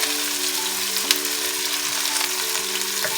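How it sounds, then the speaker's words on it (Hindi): Chopped onions frying in hot oil with cumin seeds, a steady close sizzle with light crackle and occasional stirring, no voices. "गोल्डन कलर आने तक प्याजों को मैं करूँगी फ्राई।"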